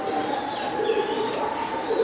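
Black Irani-Turkish cross pigeons coo softly on a large pigeon farm, a low, steady burbling that continues throughout against a constant background murmur.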